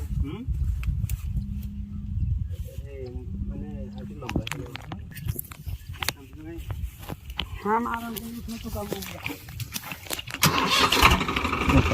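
Swaraj 744 4x4 tractor, stuck and being recovered, has its engine cranked and started, a low mechanical rumble that builds and grows louder toward the end, with people talking over it throughout.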